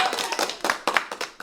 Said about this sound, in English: So, hey, big round of applause.